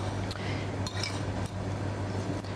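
A spoon stirs a salad of mushrooms, tomatoes, shrimp and mayonnaise in a bowl, giving a steady wet, squelching churn with a few soft clinks against the dish and no talk.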